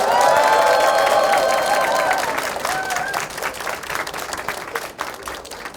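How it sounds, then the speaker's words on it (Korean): Loud applause and cheering from an audience at a Seoul disability organizations' policy meeting with a mayoral candidate, a dense wash of clapping and shouts with a voice rising above it, slowly thinning over several seconds. "여러분의 큰 함성과 박수로 시작하도록 하겠습니다"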